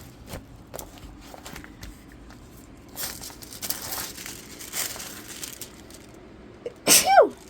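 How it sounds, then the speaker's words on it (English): Soft rustling and handling noises while unpacking a diamond painting canvas, then a single short, sharp sneeze bursts out near the end, close and loud. "Oh God, I sneezed on camera."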